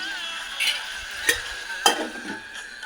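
Spicy chicken frying in a pan and stirred with a spoon, a steady sizzle underneath a few sharp scraping clinks from the utensil, close and fairly loud.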